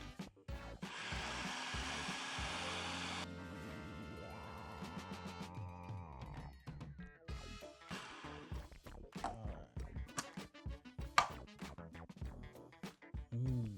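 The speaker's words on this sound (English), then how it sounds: "now we're still blending" A blender churning food seasoned with black pepper: a loud, steady motor whir for a couple of seconds, then a lower, changing drone, followed by scattered knocks, clatter and bumps nearby.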